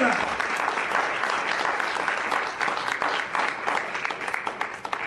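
A church congregation applauds the Lord in sustained, dense clapping that fills the space for several seconds, with voices mixed in beneath it.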